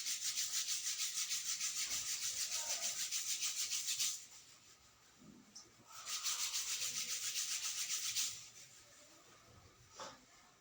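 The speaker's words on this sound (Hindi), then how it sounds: "आंखों को रब करेंगे, आंखों पे, चेहरे पे," Hands rub over the eyes and face at the close of a yoga session, making a steady, close dry rubbing that comes in a few bursts of several seconds, with quieter pauses between them and no talk.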